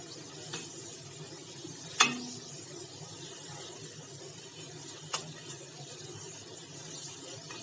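Stuffed bitter gourds filled with green mango fry quietly in a pan, a soft steady sizzle broken by a few brief clinks and scrapes as pieces are turned.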